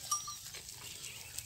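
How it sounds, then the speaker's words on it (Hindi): Goats graze grass in a rural farm setting, heard faintly as soft, scattered rustling and low farm ambience at a distance, with no voices. "बकरी जो है इतना भूख है सभी इन बकरियों में कि अभी एक एक घास को चुन चुन के खा रही हैं।"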